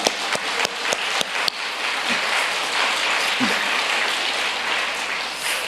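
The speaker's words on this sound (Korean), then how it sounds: "우리 서로에게 격려의 박수 한번 했으면 좋겠습니다" A congregation at a New Year's Eve church service claps together, a few separate sharp claps at the start leading into a steady, moderately loud wash of applause.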